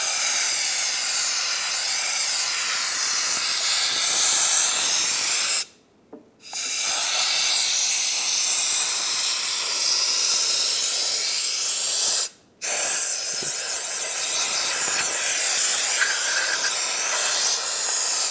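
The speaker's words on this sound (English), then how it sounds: "now we'll dry this off with some compressed air" Compressed air hisses steadily as it blows a valve cover dry on a 3.6L 2008-2020 Dodge Grand Caravan. The close, loud blast runs in three long bursts separated by two brief pauses.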